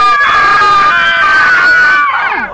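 A person inside a car lets out one long, very loud, sustained scream at close range that cracks and breaks off into a falling wail near the end.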